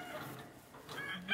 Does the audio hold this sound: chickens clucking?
yes